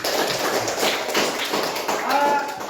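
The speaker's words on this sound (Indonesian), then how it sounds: "berikan aplaus dulu untuk pelajaran kita hari ini" A classroom of students claps for the lesson, a dense, continuous patter of many hands close by with voices mixed in.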